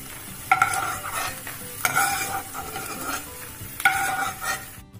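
Shelled peanuts fry in hot tempering oil for a chutney, with a steady sizzle broken by three scraping stirs of a spoon against the pan, close and alone without talk.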